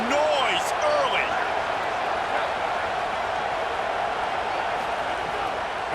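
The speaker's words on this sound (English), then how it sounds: "This crowd bringing the energy and noise early." A dense, roaring stadium crowd fills a college football video game, a steady wash of distant cheering with faint whistles and a brief sharp thud near the start, under a commentator's voice at the opening.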